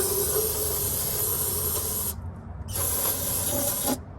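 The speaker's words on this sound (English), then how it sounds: "So we're just going to go ahead and use some brake cleaner." Brake cleaner sprays from an aerosol can onto a Honda Civic engine block in hissing bursts, a long steady spray that breaks off, a second spray, then a short pause at the end, loud and close with no talk.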